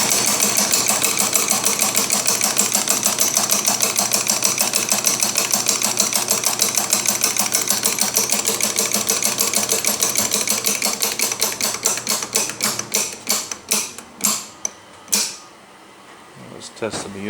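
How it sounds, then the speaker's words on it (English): An ex-military 3-phase 12-cylinder aircraft magneto test stand runs with a rapid, close, clattering buzz of regular ticks that slow into widely spaced clicks as it winds down to silence near the end. "This is a 12-cylinder mag test stand. Ex-military, mainly used for aircraft. 3-phase. Fire it up."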